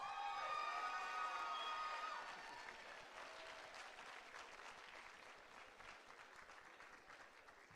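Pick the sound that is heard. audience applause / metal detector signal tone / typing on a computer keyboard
audience applause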